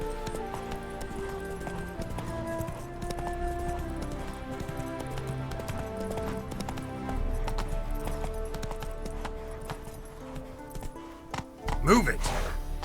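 A horse gallops in The Witcher 3 with rhythmic hoofbeats under steady game music and effects, and a voice speaks briefly.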